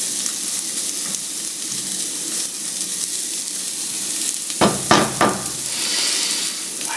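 Garlic and ginger sizzle in a frying pan with a steady, close hiss, and a brief burst of clattering stirring breaks in near the end.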